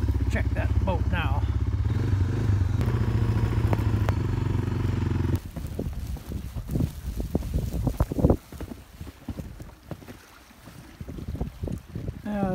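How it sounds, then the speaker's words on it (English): Wind picking up over a lake in Lake Clark National Park, heard as a steady broadband rush at first, then gusty, uneven buffeting against the microphone with intermittent knocks and rattles, fairly close and moderately loud. "wind coming up"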